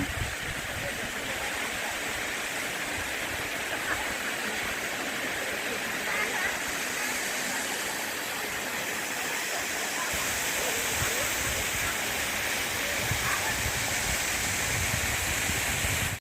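Tham Phra waterfall in Bueng Kan, a steady broad roar of falling water that holds constant and dense from start to finish, with no voices standing out.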